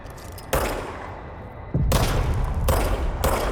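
Bursts of gunfire in the video game Control, loud and close, starting about half a second in, breaking off, then returning as sustained rapid shooting, with heavy low thuds under the shots.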